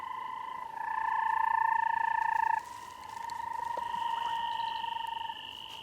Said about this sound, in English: a rarely seen banded rubber frog